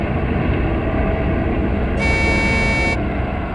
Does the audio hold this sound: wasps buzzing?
no